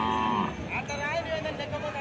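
Cattle at a livestock market, several overlapping moos and lowing calls close by, mixed with crowd noise and voices talking in the background.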